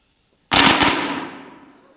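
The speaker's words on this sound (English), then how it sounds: "Look, Penny, check out these new firecrackers we just made." A string of firecrackers set off onstage during a high school drama play, one sharp loud crack followed by a fast crackling burst that fades over about a second and a half.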